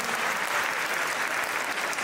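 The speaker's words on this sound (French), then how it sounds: "je vous coupe des fois les applaudissements parce que vous me flinguez le rythme" A stand-up comedy audience breaks into brief, steady applause that holds at an even level and sounds fairly distant, with no talking over it.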